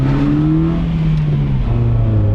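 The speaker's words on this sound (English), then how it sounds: "it's all induction noise." Car engine with the exhaust valve shut, its induction noise a steady droning tone that rises and shifts pitch as the motor is revved, loud and close with no talking.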